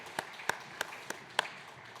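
Sparse, scattered claps from a church congregation applauding an elder at an early-morning prayer service, about five separate sharp hand claps spaced across a quiet room, moderately faint and with no voices.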